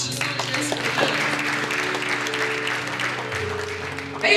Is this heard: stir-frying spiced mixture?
no